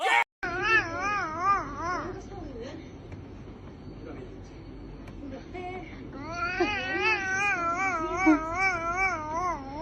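A cat meows and wails in long, wavering cries that recur through the clip, with a short break in the middle.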